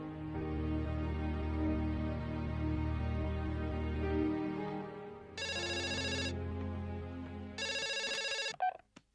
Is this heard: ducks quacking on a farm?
no